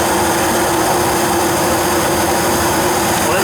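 A second-floor gas furnace that had not been heating fires up after its flame sensor was cleaned, giving a loud, steady, broadband roar with a constant hum and no noticeable change.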